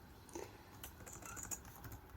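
Soft, quick keystrokes tap on a computer keyboard while Python code is entered, a faint irregular patter of individual clicks close by in a quiet room.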